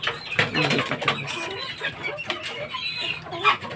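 Two mother hens, sisters, cluck close by in a lively, uneven run of calls with some bird chatter mixed in.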